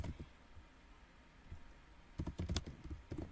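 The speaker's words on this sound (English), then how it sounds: "I'm going to just type in some dummy names." Quick bursts of computer keyboard typing while dummy names are entered into an Outlook group contact list, scattered clicks at first, then a denser run of keystrokes near the end, close and fairly quiet with no talking.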